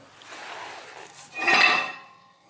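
Metal parts of a Ford 8.8 rear axle clink as a C-clip and axle shaft are removed in a Volvo 240 wagon. Several close, bright metallic chinks and a scrape swell to a ringing clank, then fade.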